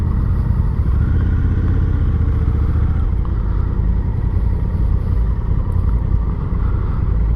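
2024 Honda Africa Twin Adventure Sports with electronic suspension cruising along, a loud continuous engine drone with steady wind roar, no pauses and no talk.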